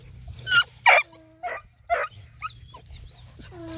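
Several coonhound puppies bark, yip and whimper close by in short uneven bursts, with high thin whines between the louder barks and no talking.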